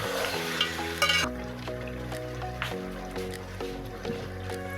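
Tomatoes and green chillies frying in oil with ginger-garlic paste for chicken biryani, a steady close sizzle with a brief stirring clatter early on, heard alone.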